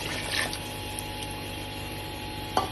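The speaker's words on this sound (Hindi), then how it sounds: "1 बॉल पानी का इसमें ऐड कर देते हैं" Water poured into a cooking pot of Afghani pulao, a soft continuous liquid fill with a faint splash, close and alone.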